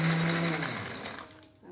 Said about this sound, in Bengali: এবার খুব সামান্য পরিমাণে আগে আমি ঘুরিয়ে নিলাম মিক্সারে